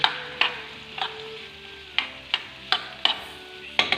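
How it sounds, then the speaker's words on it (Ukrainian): Onion frying in butter with a little oil, a steady sizzle with repeated sharp scraping stirs of a spoon in the pan, close and alone. "на вершковому маслі з додаванням олії обсмажуємо цибулю"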